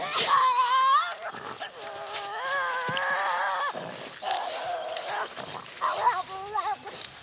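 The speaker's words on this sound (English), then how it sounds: "Then full-scale screeching." A Tasmanian devil gives full-scale screeches, a series of harsh wavering cries rising and falling over several seconds, close and fairly loud, with no talk over it.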